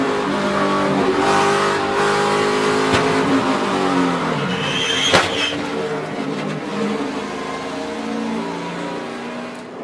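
Onboard the number 31 NASCAR truck in the 2012 Lucas Oil 150, a loud engine roars steadily at racing speed, pitch shifting as it revs and eases, with brief sharp bursts and a slight fade near the end.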